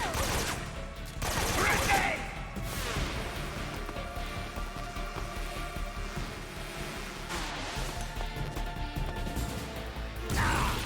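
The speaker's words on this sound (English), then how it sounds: "Tommy gun." A Tommy gun in Metal Gear Solid 3 fires in rapid bursts of loud, sharp shots, dense and continuous throughout, with a bigger crack near the start and again at the end.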